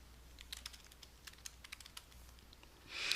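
Quiet clicks of typing on a computer keyboard, a short irregular burst of keystrokes close to the microphone, with a brief louder rustle at the end.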